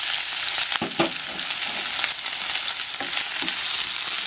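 Onion sizzles steadily in a pan of frying sardines for a sardine and broccoli sauté, a close, dense hiss broken by a few sharp stirring clatters.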